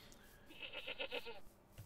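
Goat in TerraFirmaCraft giving one short, quavering bleat with a rapid pulsing tremolo, faint and slightly distant over quiet game ambience.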